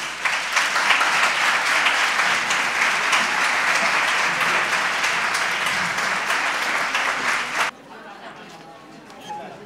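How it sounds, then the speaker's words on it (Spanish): A large crowd in a pavilion at a saffron festival in Santa Ana applauding two performing groups: dense, loud sustained clapping that stops abruptly, leaving near silence. "Así que un aplauso para ellos."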